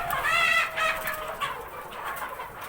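Desi Kadaknath rooster and chickens on a poultry farm near Kota housing about a thousand birds, giving repeated nearby clucks and short crowing calls that fade into softer barnyard murmurs.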